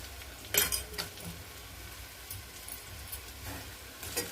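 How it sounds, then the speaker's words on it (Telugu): Raw green banana pieces tumble into a pan of frying onions, giving a faint steady sizzle marked by a few sharp clinks and scrapes of a spoon against the pan. "కూర అరటికాయ ముక్కలు వేసేసుకుందాం"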